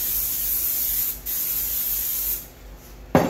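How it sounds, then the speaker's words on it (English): Olive oil cooking spray hisses onto a pan in one steady burst of about two seconds, close and clear, ending with a sharp click. "I'm going to spray this pan here with some olive oil."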